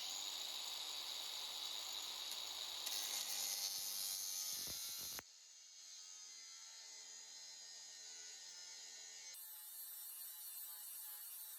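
A flat head screwdriver bit being cut off with a power tool on a workbench: a steady, loud high-pitched grinding whine that shifts tone midway and continues without talk.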